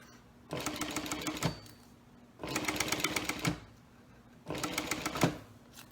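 A sewing machine basting a zipper onto a pouch runs in three steady bursts of rapid stitching, each about a second long, with brief pauses between, close by.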